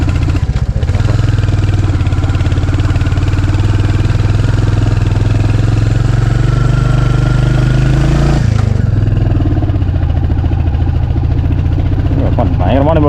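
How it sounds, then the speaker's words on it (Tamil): A Royal Enfield motorcycle climbs a steep forest track toward a village, its engine droning loud and steady, labouring close up, then cutting out abruptly about two-thirds through before a voice speaks. "பயங்கரமான நம்ம வண்டியே அணைத்துது, என்ஃபீல்டே அணைத்துது."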